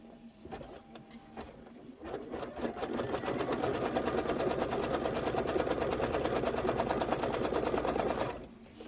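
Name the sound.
sewing machine stitching quilt fabric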